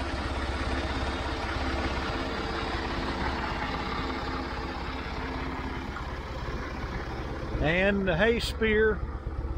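A tractor fitted with a Model 100 front loader idling with a steady low engine drone throughout, joined near the end by someone speaking close by.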